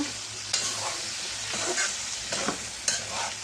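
A pan of dried fish curry with potatoes sizzles steadily while a spoon stirs it in a few scraping strokes, close and moderately quiet, with no talking.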